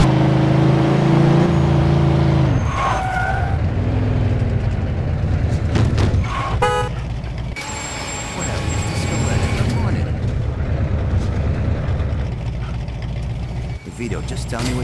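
A Shubert Frigate driving in Mafia 2 Definitive Edition, a steady engine drone with shifting revs and passing clunks, partly under talk.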